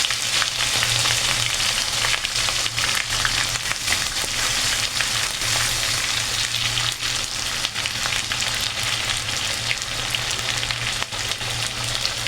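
Onion and capsicum sizzle steadily in a hot pan, a dense continuous frying hiss with faint stirring scrapes, close and loud with no talking.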